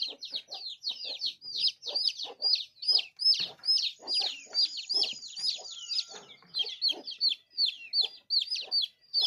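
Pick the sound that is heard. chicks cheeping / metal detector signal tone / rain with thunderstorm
chicks cheeping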